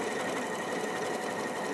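Elna 780+ sewing machine stitching fabric at high speed, a steady, close, continuous whirring hum with rapid needle clatter and no talking.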